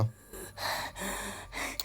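A video game character in Into the Dead 2 gasps for breath in a short run of ragged, strained intakes, close and fairly loud, with no speech over them.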